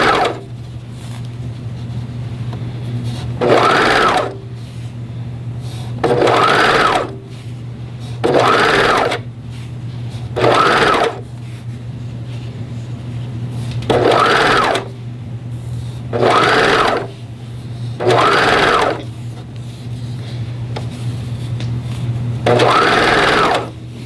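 A sewing machine stitching binding onto knit fabric, heard as repeated bursts of fast whirring stitching lasting a second or two each, separated by pauses, over a constant low electrical hum.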